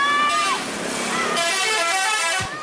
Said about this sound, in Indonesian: Mereka menunggu bus lewat dan meminta sopir bus membunyikan klakson uniknya.